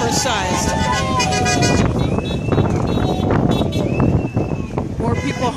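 Car horns toot repeatedly from passing traffic at a street-side minimum-wage protest in Des Moines, mixed with crowd chanting and voices throughout, moderately loud and close.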